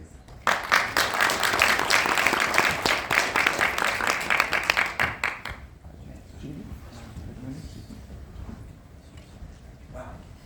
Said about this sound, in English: A round of applause for Mr. Johnson, please.